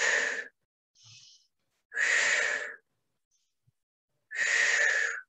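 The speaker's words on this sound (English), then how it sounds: "So quick breaths." Quick, forceful breaths during a mobility exercise session, heard as three strong breathy puffs with a softer one between, separated by short silences, close and clear.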